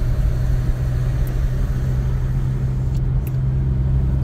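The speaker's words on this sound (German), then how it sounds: "im Sommer ist es tatsächlich nicht einfach bei dem Smart mit geschlossenen Fenster zu fahren" Smart car driving with the windows closed, a steady low engine and road rumble filling the cabin at constant volume with a faint tick or two, no talking.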